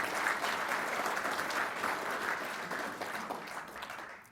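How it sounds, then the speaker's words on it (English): A conference audience gives a steady round of applause at a climate conference opening, dense and even, fading slightly toward the end, with no voices over it. "So give them a round of applause."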